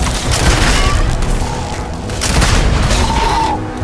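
Rapid, dense gunfire from the sci-fi video game Starfield: heavy booming volleys roll almost without pause, loud and close throughout.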